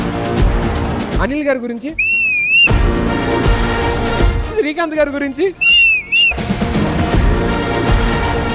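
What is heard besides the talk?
girl whistling in different styles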